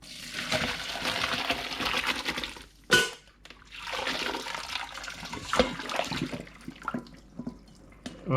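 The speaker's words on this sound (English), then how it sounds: "let's drain out the water" Hot water poured off blanched vegetables, likely cucumber, into a sink, a broad splashing rush that pauses briefly around three seconds, then resumes with gurgles and drips, close and fairly loud with no talking.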